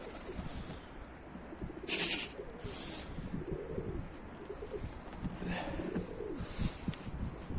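Pigeons coo repeatedly in a loft, low rounded calls rising and falling at a steady moderate distance, with occasional brief wing flutters and a faint background hum.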